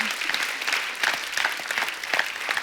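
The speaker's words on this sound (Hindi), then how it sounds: "एक बार जोरदार तालियां हो जाए लक्ष्मी, रितु, जीतू, कुंती एंड बाला के लिए।" The studio audience at a comedy show claps loudly and rhythmically in a brief, energetic burst that holds steady throughout.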